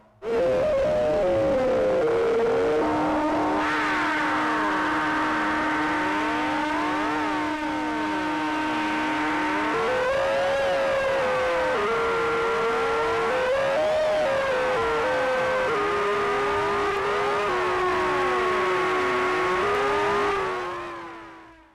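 Malevolent synth with PWM filter and noise frequency-modulating the filter, cross-modulated into wild, swooping tones: loud continuous gliding and stepping pitches with dense crisscrossing sweeps, sustained throughout with no talking.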